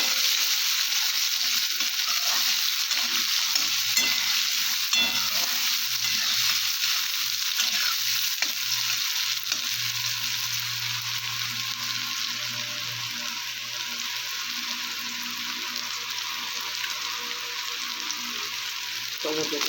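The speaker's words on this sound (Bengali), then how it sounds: "কালো জিরে দিয়ে দেবো, একটা পেঁয়াজ দিয়ে দেবো, নাড়াচাড়া করে নেবো।" Nigella seeds and chopped onion sizzle steadily in a hot pan while being stirred, a continuous close frying hiss with occasional scraping, no talk over it.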